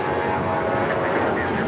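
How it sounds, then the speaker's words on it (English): An American Airlines Boeing 737-800 taking off from LAX bound for Chicago gives a brief, loud, steady engine roar at close range. "This is American Airlines 613 taking off to Chicago on the 737-800"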